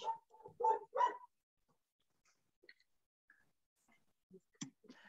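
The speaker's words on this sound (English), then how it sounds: "unless that is your dog, Miguel, that we hear in the background" A dog barks faintly in the background of an online seminar call, a few short scattered yips and a brief burst of barking near the end, while a voice speaks briefly at the start.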